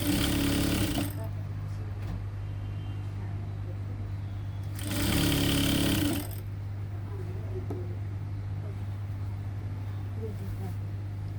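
A sewing machine stitches a seam on a churidar in two loud bursts, one at the start and a longer run midway, over a steady low electrical hum with quiet pauses between.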